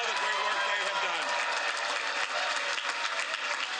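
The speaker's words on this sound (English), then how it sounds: "give them a great round of applause for all the great work they have done" Crowd applause for campaign staff at an election night rally, a continuous roar of clapping and cheering from a large audience with a voice carrying over it.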